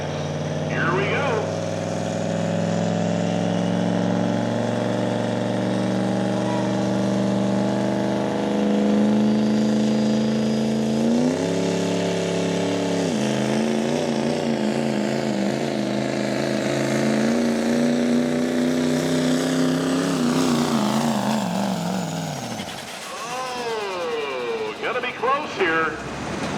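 A Duramax diesel pickup at a truck pull runs at full load: a loud, sustained engine roar whose pitch climbs and wavers in steps, then drops off near the end.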